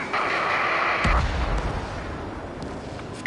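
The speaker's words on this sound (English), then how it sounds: "Gargoyle 1, caution, missile!" A missile exploding in the jet combat game Ace Combat 7, a deep low boom rolling under steady engine roar, followed by a few faint pops.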